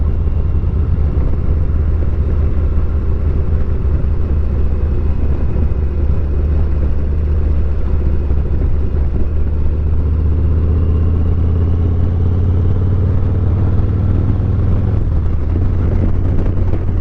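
A motorcycle rides along a paved mountain road in Georgia's Blue Ridge Mountains with a steady, loud engine drone and wind rush that stay constant and close throughout.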